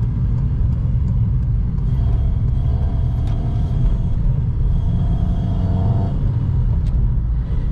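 A Honda Civic Si with worn suspension and other worn mechanical parts, shaking as it runs: steady, loud low rumble throughout, close and continuous, with no talk over it.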